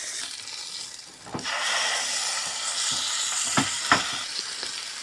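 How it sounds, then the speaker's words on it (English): Steak frying in a pan, a bright steady sizzle with crackling pops and a few louder spits, close by and continuous with no talking. "See what the sizzle factor this is."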